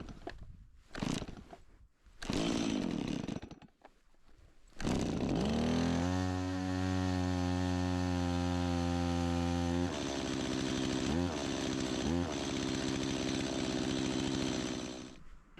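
A chainsaw starts with a few sputtering pulls, then settles into a loud, steady, close-up run in a snowy winter camp before cutting into dead standing spruce, with the engine dipping under load twice near the end.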